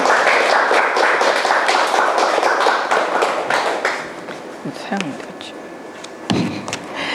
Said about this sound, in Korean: 나오실 때 박수 부탁드리겠습니다